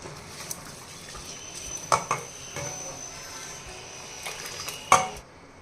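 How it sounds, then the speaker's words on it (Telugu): Drained basmati rice tipped into a pot of boiling water for mutton biryani, heard as a few soft clattering splashes and pot knocks over a steady low bubbling hiss, with no talk. "ఇప్పుడు మనం రైస్ వేసేసుకోవాలి ఇదిగోండి నీళ్ళన్నీ వంపేసి వేసేసుకోవాలి"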